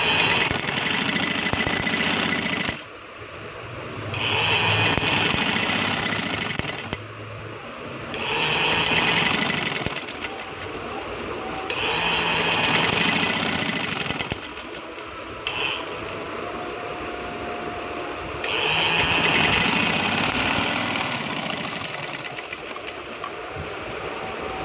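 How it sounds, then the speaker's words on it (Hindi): A sewing machine runs a stitch along a trouser seam with net set underneath, whirring loudly in several sustained bursts that stop and start again as the fabric is repositioned. "अब हमने ऊपर वाली सिलाई के ऊपर सिलाई लगानी है, नीचे से नेट को सेट करते हुए।"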